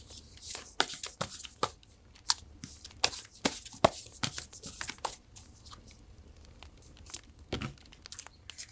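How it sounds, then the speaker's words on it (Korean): A deck of tarot cards is shuffled close up in a quiet room, giving a run of crisp riffling snaps and flicks in uneven bursts. "카드 섞고"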